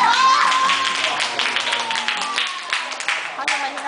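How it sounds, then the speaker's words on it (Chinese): An audience clapping at a live music show, brisk scattered hand claps mixed with crowd voices and a person talking over them, fairly loud and close. "好，大家拍手一下。"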